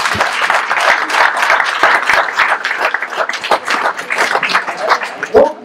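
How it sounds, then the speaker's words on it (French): At a mayor's New Year greetings ceremony in La Croix-Helléan, an audience claps loudly and close, a busy crackle of many hands with distinct sharp claps standing out, sustained throughout. "Donc on peut les applaudir."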